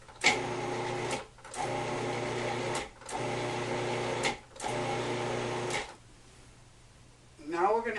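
Food processor pulsing dry bread dough ingredients in repeated bursts, about five steady whirring runs of a second or so each separated by brief stops, close and fairly loud, then a quiet stretch and a short voice at the end.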